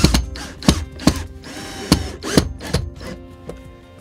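A power drill drives screws into a wooden super deck around an attic hatch cover, a series of short sharp bursts and knocks close by, spaced unevenly over a few seconds with no talk.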